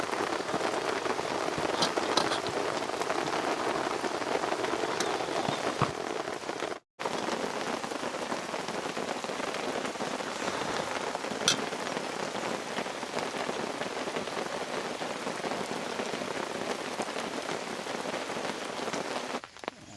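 Steady, heavy rain pours down at a farm campsite in Dolores, Quezon, a continuous dense patter on surfaces with no voices, broken only by a brief drop-out partway through.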